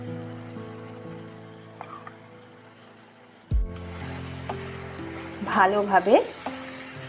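Tomato paste made from two medium tomatoes hits hot oil with spices and bursts into loud sizzling and stirring after a quiet start, and a voice speaks briefly over the frying.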